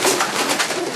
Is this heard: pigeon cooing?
yes